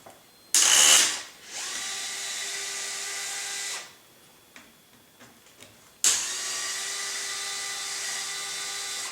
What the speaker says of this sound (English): You're going to need to take those screws off when installing your tail boom area.